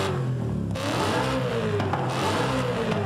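A twin-turbo BMW E92 M3 engine in Forza Horizon 5 revs hard with a rising, droning pitch that keeps climbing and falling, loud and continuous with a faint scraping whir underneath.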